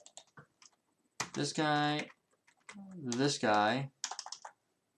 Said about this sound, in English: by typing that in, I'm going to go ahead and I'm going to commit the command